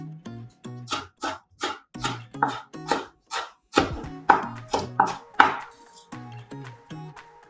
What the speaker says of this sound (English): Red chilies, cut it in half.